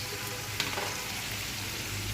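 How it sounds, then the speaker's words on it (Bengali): Bitter gourd and shrimp fry in a pan with a dense, even sizzle, broken by one brief stirring clatter, close up and without speech. "করলা ভাজিটা নাড়া দিয়ে দিচ্ছি"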